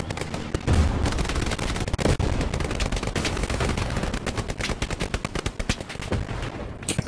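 Gunfire in the WWII video game Hell Let Loose during a battle for the Carentan causeway. Rapid, dense bursts of automatic and rifle shots crack almost without pause, loud and continuous, with a couple of heavier booms near the start.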